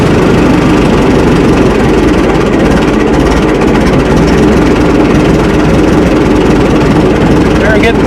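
An old Minneapolis Moline tractor engine runs with the choke pulled fully out, a loud, continuous low rumbling drone that stays steady and close throughout, with talk partly masked underneath.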